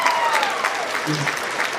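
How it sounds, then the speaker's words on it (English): A brief round of clapping from an audience, with a voice speaking over the applause. "let's give him a applause for that, y'all."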